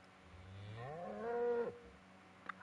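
A cow in the video game Minecraft lets out a single drawn-out moo that rises and then cuts off, fairly close and clear against a quiet background, followed by a brief click.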